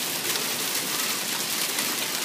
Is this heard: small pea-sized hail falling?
yes